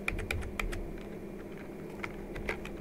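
Computer keyboard keys clack in quick, uneven taps while working in Blender, about a dozen close, crisp presses with short pauses between them, heard alone without any talk.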